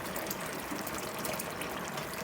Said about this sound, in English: Maybe I'll add a little bit more water in it right now.